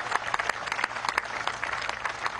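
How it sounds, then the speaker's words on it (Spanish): Soft, steady crowd applause at a political forum, honouring the defence minister, heard at a distance and fairly faint throughout. "pido un aplauso al general en jefe Vladimir Padrino, ministro de la Defensa"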